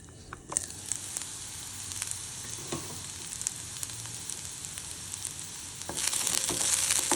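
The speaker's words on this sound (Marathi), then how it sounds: "ही भाजी वाफवून घ्यायची आहे" Karela (bitter gourd) bhaji steaming in a covered pan, giving a soft continuous sizzle with faint crackles, growing louder and brighter toward the end.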